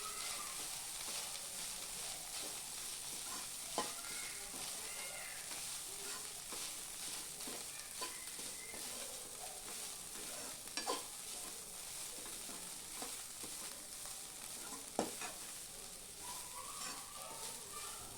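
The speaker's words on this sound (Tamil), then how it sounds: "இப்போ அவலை நெய்யில் நல்லா வறுத்தாச்சு" Flattened rice (aval) roasts in ghee in a pan with a faint, constant sizzle, broken now and then by small scraping clicks from stirring. Nobody speaks.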